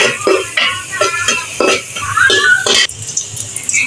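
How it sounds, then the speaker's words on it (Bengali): Onions sauté and sizzle in a pan as a Bengali dish is cooked down, with close clattering stirs of a spatula against the pan and bursts of frying over a few seconds. "এখন আমরা রেঁধে নিব, মানে কষিয়ে নিব।"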